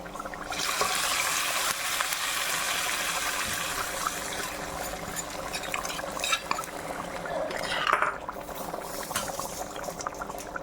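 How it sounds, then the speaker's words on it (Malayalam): Hot tempering oil with onion, curry leaves and mustard seeds poured into a coconut prawn curry, setting off a loud, steady bubbling hiss with crackles that swells near the end. "ഉള്ളി കരിയാപ്പല കടുക് എണ്ണയ്ക്കകത്ത് മൂപ്പിച്ചതാണ് ഇതിനകത്തേക്ക് നമുക്ക് ഒഴിക്കാം"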